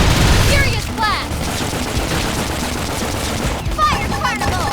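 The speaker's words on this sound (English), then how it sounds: "gunfire!" Gunfire and battle blasts in the video game Xenoblade Chronicles X fire off as a dense, loud volley at the start, then again near the end, with character voices calling out over the combat.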